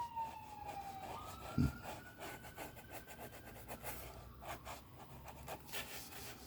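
A city siren wails at a distance, its pitch sliding upward, over a busy, rasping background of scraping and rubbing noise.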